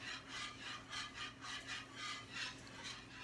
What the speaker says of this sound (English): We're whisking.